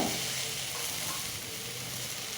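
Shallots and chopped ripe tomatoes, with salt added, sauté in a pan over a low flame, giving a steady, close, continuous sizzle with no talking.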